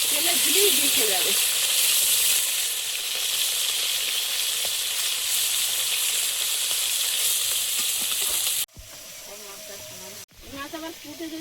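Salt-and-turmeric-coated koi fish fry in hot oil in a wok, a loud continuous hiss and crackle lasting most of the time, with a voice heard briefly at the start and again near the end after the sizzle cuts off.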